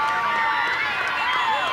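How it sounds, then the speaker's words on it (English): A loud crowd roars and cheers at the close of a rugby league match between Blackall Magpies and Longreach/Ilfracombe Tigers, a sustained wall of shouting and whooping voices throughout. "The crowd is on their feet"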